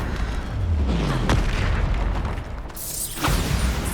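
Bombarda spell blasts from the Hogwarts Legacy video game, with deep booming explosions layered over continuous battle noise and one sharp burst near the end.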